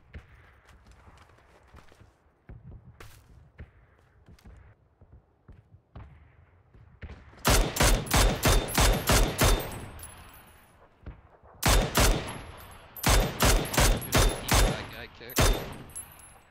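Bursts of gunfire from far off in PUBG on the Erangel map, following quieter ambient game sound: two clusters of rapid shots, each a run of about six to eight sharp reports in quick succession.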